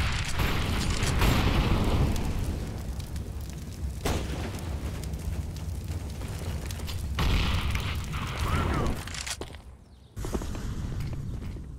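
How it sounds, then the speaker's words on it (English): A flashbang grenade is thrown during live video game play, heard amid a dense, loud wash of game noise, with several sharp bursts and booming hits standing out over the constant rumble. "I am throwing a flashbang."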